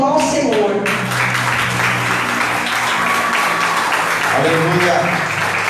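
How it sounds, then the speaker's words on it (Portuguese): Congregation clapping in praise during a family church service, a steady sustained wash of applause with voices and music tones running underneath throughout. "E as palmas louvam ao Senhor."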